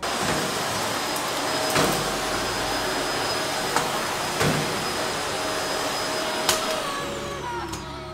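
A vacuum cleaner runs continuously with a loud, steady roaring whine, punctuated by a few faint knocks and bumps.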